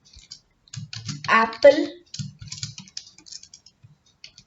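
Python code typed on a computer keyboard makes a run of quick, light key clicks in short bursts, with a person talking briefly among the taps.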